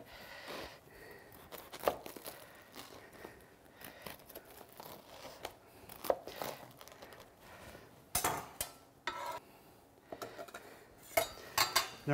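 A knife cuts through baked Turkish lamb pide on a board, giving a run of scattered crunchy slices and scrapes with clatters of utensil on the surface, close and moderately quiet with no talking.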